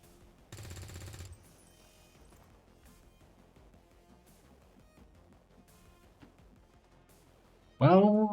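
SMG gunfire in a turn-based strategy video game, a short rapid burst early on, followed by quieter game sounds and an abrupt loud crash near the end, mixed under a person talking.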